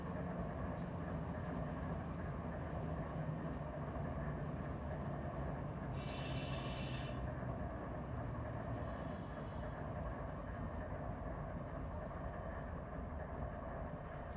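Freight train in the Run8 Train Simulator game rumbling along continuously, with steady low rail noise, a few brief high squeals and hissing bursts, and someone speaking faintly at times.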